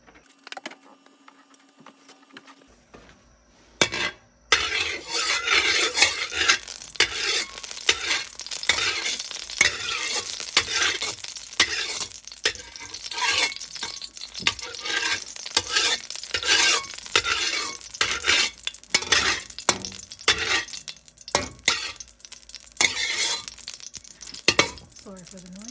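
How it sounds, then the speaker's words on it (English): Steady crackling sizzle of aromatics frying in oil for Filipino pork blood stew (dinuguan), with intermittent stirring scrapes and the occasional clink of utensils against the pan. "Start frying up some aromatics here."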